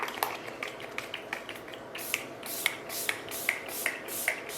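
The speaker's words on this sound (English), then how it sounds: "Let's test out the sprayer." A makeup setting spray pump gives a string of short, sharp misting bursts, about eight of them in fairly even rhythm, close and crisp over quiet room noise.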